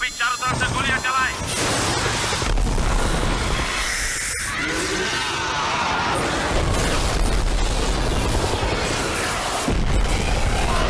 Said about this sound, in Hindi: सभी चारों तरफ से गोलियां चलाएं।